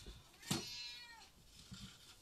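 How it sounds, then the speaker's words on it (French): A cat meows once, a short bright cry close by, followed by faint rustling and quiet background noise. "si vous entendez des miaou, c'est normal"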